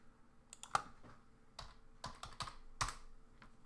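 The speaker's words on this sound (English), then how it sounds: "I have the world's loudest keyboard also." A very loud computer keyboard being typed on up close, with irregular bursts of sharp clacks and a few heavier key strikes, no voices.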